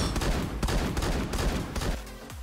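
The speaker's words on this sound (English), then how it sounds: "How's that dude still shooting?" Rapid automatic gunfire in the Roblox shooter Phantom Forces, dense overlapping bursts of loud shots crowding together, easing off slightly at the end.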